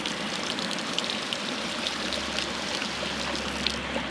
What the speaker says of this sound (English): Let's pour some of this water out first.